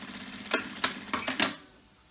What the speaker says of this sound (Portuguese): E vou costurar na beiradinha pra segurá-la aqui no lugar.